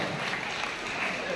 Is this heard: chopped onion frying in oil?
no